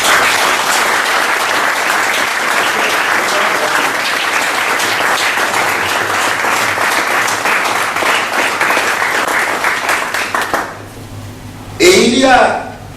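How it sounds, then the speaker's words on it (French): A crowd at a theological institute graduation ceremony in Libreville applauds loudly and steadily for about ten seconds before the clapping fades, and a voice follows over a public address system. "J'aimerais, n'est-ce pas, qu'on acclame Dieu pour cet homme."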